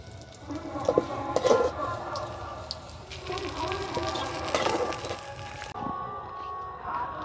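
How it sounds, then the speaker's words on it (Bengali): Onion and chilli with bay leaf, whole garam masala and cumin sizzle in oil in a pan for vegetable khichuri, an uneven hissing fry with clattering stirs and a faint voice underneath. "যেমন পেঁয়াজ মরিচটা ভাজা হয়ে গেছে এবার দিয়ে দেবো সব"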